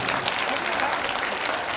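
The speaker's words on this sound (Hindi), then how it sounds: "जरा जोरदार तालियां बजाइएगा इनके लिए" Crowd at a night-time Hindu jagran devotional gathering claps loudly and steadily, a dense wash of applause filling the short moment.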